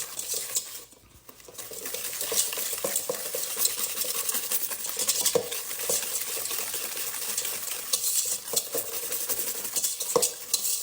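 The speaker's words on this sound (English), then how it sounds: "we are going to whisk this together" Brisk whisking of brownie batter, scraping against a bowl, continuous clattery strokes up close, with a brief quiet pause near the start.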